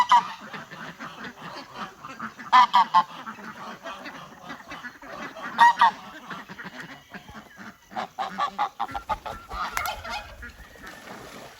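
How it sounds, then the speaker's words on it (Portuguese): Several harlequin-type geese, white with black spots, honk loudly in repeated bursts on a Brazilian poultry farm, with paired and clustered calls and quieter fowl sounds between them. "Essa ganso é bem bonita."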